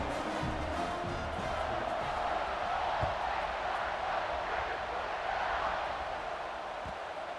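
Crowd noise from a stadium at kickoff in a video game football match, a steady broad roar of spectators cheering throughout at moderate level.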